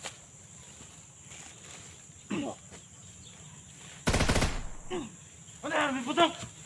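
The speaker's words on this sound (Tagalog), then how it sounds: "Ano yan? May putok!" Gunfire bursts out in a sharp rapid volley mid-clip, loud against quiet night ambience with insects, while people call out around it.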